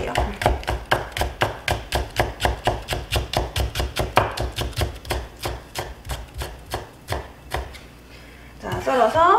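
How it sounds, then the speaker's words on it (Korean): Green onion (daepa) sliced thin with a knife on a cutting board, a fast, even run of about thirty crisp chops that stops near the end before some handling noise. "그냥 원래 생긴 대파 모양대로 그냥 가늘게만 썰어주세요."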